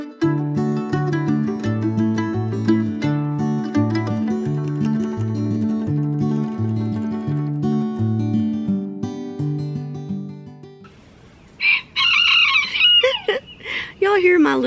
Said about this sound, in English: Y'all hear my little tiny roosters?